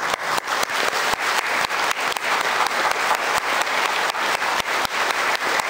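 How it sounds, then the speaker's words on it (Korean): A church congregation at an Easter Vigil in a Korean Catholic parish in Atlanta claps for the catechism teachers, a close, sustained burst of many hands clapping in a dense, slightly rhythmic patter. "박수를 받으십시오"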